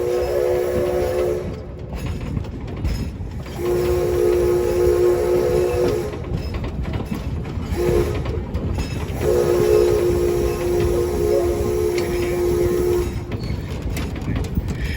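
The Yosemite Mountain steam train rumbles steadily downhill, its whistle sounding in several long, loud blasts over the continuous clanking and hiss of the moving locomotive.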